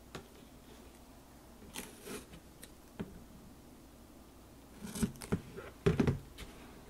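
Scissors snip thin grid tape in a quiet room, a few soft scattered cuts followed by a cluster of sharper, closer snips near the end, with no talking.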